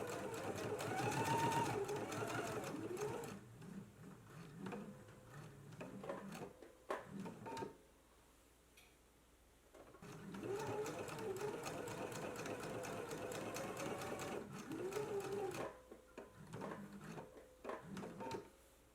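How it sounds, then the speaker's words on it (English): Close sewing machine edge stitching and top stitching a dress pocket, running in long steady bursts with a pause near the middle and shorter stops, the whirring motor and needle clatter clear and alone. "So let's go ahead and do our edge stitch and top stitch now."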